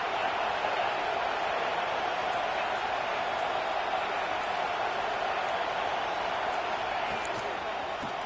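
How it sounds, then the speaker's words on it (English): Dense, steady roar of a large college football stadium crowd at Alabama's home field during a third-down play, a continuous loud wash of cheering and noise with no break across the whole stretch. "The Tide crowd roaring noise down on the Saban field on third down."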